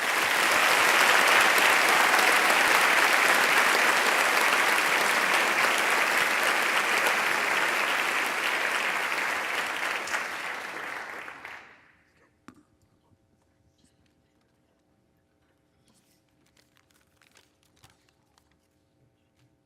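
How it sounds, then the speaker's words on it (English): Loud, dense applause from the audience at an Officer Training School graduation ceremony for Class 23-04, sustained for about eleven seconds before cutting off abruptly into near silence with faint stray noises. "Let's give them a big round of applause."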